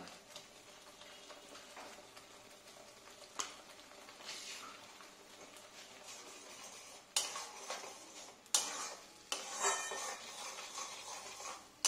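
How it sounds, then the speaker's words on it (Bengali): A spoon scrapes and stirs ginger paste with a few grains of sugar as it sautés in a pan, giving soft scraping and clinks over a faint, steady sizzle, with a few louder knocks near the end. "দিয়ে এবার খুব ভালো করে এটা কষাতে থাকবো"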